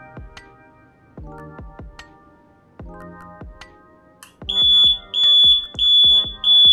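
A DH48J-8 digital counter ticks through its count with soft, irregular clicking pulses, then its alarm buzzer sounds as a series of repeated loud, piercing beeps that pulse on and off. No voices.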